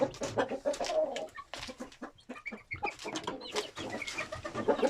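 Turkeys and chickens in a backyard poultry pen calling repeatedly, a busy overlapping stream of clucks and squawks at moderate distance, irregular and lively throughout with no talking.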